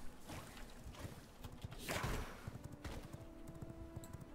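Horse hooves clip-clopping in the game V Rising, a steady run of soft rhythmic footfalls heard close up beneath a busy layer of game sound and music.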